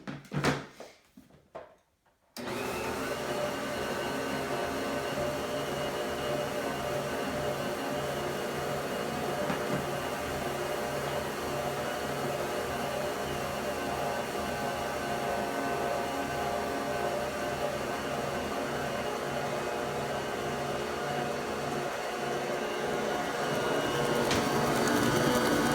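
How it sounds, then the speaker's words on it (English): A Bosch Universal Mixer creams butter and sugar for snickerdoodle cookies. After a brief clatter the motor starts, then holds a steady, loud whirring hum with a faint rhythmic churn throughout. "So I'll probably mix it close to that this time with just the butter and the sugar."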